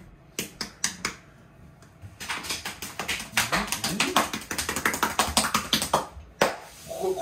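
Hands rhythmically tap and pat on a bare belly, producing quick, close, hollow slaps in irregular bursts that build into a dense drumming pattern.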